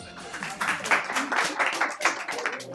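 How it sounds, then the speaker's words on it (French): Audience at a farewell evening in a bookshop applauds a quiz winner, a steady wash of clapping lasting a few seconds at moderate loudness, with the crowd close by. "On l'applaudit."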